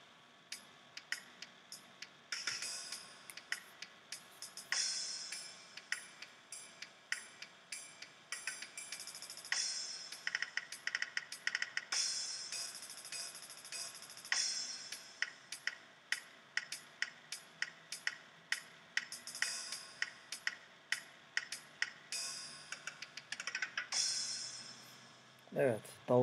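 Drum solo with hi-hat and snare played back in Sibelius notation software, quiet rapid ticking hits in a steady rhythmic pattern with no talk.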